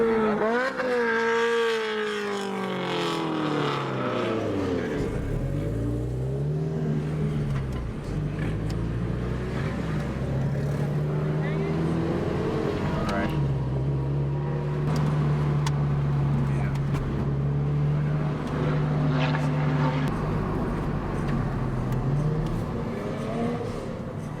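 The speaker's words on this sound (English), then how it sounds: "autocross going on here" Autocross cars at California Speedway rise and fall with revving engines and gear changes, a sustained drone that swells as cars pass. Voices sit in the foreground over the engines.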